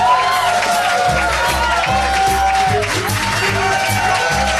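A live podcast audience cheers, whoops and applauds in a steady loud roar of crowd noise, with voices and a musical tone running through it.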